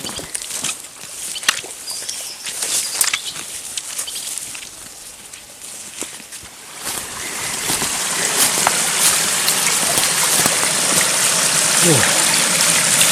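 A shallow stream running over rocks in a stony forest riverbed, its steady rushing wash rising and becoming fuller and closer halfway through, with scattered rustles and footsteps and occasional voices in the background.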